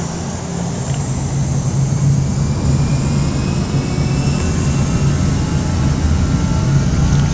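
Airbus A320 jet engines spooling up toward takeoff thrust in the FSX flight simulator: a loud, steady cockpit roar with a low engine hum and a faint high whine that swells slightly, then holds.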